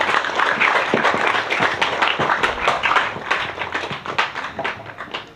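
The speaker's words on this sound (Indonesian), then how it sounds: "Kasih tepuk tangan yang meriah." Audience applause at a youth gathering, a loud, lively crowd clapping steadily throughout, dense and sustained, tapering slightly near the end.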